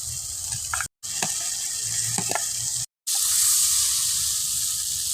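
Fried potatoes are stirred into a sizzling spice masala in a pan, giving a loud steady hiss with scraping stir sounds, briefly cut by two short gaps of silence.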